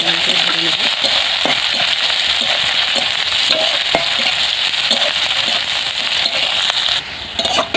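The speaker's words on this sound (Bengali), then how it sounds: "তো এবার দেবো পেঁয়াজ, ভালো করে নাড়াচাড়া করে ভেজে নেব।" Onions fry in hot oil in a pan while being stirred, a constant loud sizzle with scraping clicks from the stirring, and a voice talks over it.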